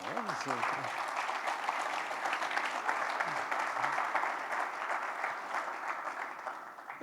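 Steady applause fills a church gathering for a member who did well, a dense, even wash of clapping from a crowd that holds for several seconds, with a brief voice near the start.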